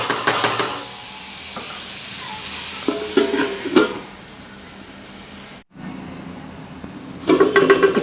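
Chopped capsicum sautés in a pan for mushroom kulambu. Loud bursts of spoon scraping and stirring come and go over a soft, steady sizzle, with a brief silent gap midway.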